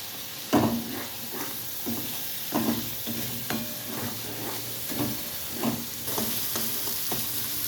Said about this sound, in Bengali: মশলাটা যত কষানো হবে ততটাই ভালো হয়, মানে রান্নার স্বাদ ওঠে ততটাই।